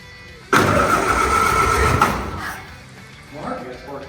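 A 1929 Ford Model A engine being cranked, giving a loud, close burst of mechanical churning that runs for about a second and a half, then drops away and briefly resumes more faintly.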